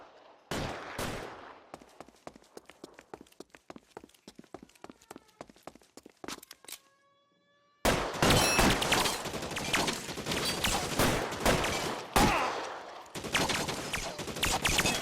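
Gunfire in L.A. Noire: sharp single shots and quick volleys ring out, then after a brief lull a dense, loud barrage of overlapping shots and bursts continues to the end.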